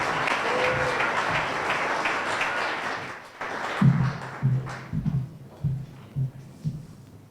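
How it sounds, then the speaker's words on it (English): Audience applause for a scholarship recipient at a First Tee Denver scholarship ceremony, a dense burst of clapping from a sizeable crowd that thins out after a few seconds into scattered claps and thumps. "Will you please help me and give a rousing applause for Maddie Franklin,"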